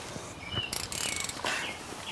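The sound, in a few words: 14mm socket ratchet loosening caliper bolts, Hyundai Elantra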